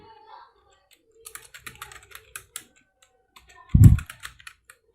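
Quick, uneven clicks of typing on a computer keyboard as a file path is entered on a Kali Linux machine, close and fairly quiet, with one louder thump near the end.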